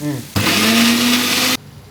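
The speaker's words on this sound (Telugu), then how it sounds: "దీన్ని మిక్సీ ఆడేసి దానిపైన అప్లై చేసేయాలి" A mixer grinder whirs loudly, blending milk, sugar and salt into a cream; one sustained motor burst of just over a second starts and stops abruptly.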